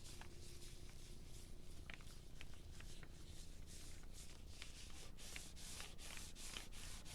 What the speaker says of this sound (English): And I rub it in, you know, I'm using my fingers to really push.